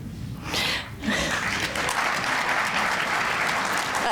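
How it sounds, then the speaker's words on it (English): Audience applause at an awards ceremony swells into steady, dense clapping from a large room full of people, continuous and fairly loud after a brief softer start. "I get applause just for getting through all those names"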